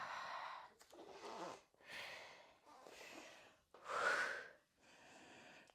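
Heavy rhythmic breathing during a dynamic core plank workout, a series of strong exhales and gasps in bursts about a second apart, close and fairly loud, with a sharper whistling breath near the end.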